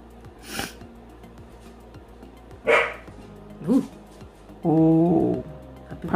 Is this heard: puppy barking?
yes